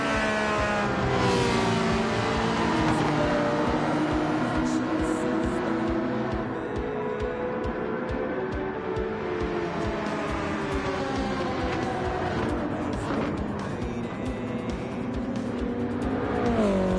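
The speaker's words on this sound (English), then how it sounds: "You can see that Ferrari on the high speed is definitely catching up to the Porsche." Ferrari and Porsche race cars roar past at speed in a racing video game, giving a loud, continuous engine whine that rises and falls with gear changes and tire squeal over the whole stretch.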